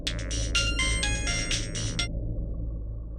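A phone ringtone plays a quick sequence of bright electronic tones for about two seconds over a low background rumble, then stops.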